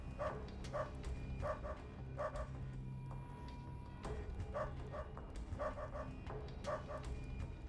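A dog in the video game UnderRail gives repeated quick bursts of quiet barking, often in pairs and triples, spread across a low steady game ambience.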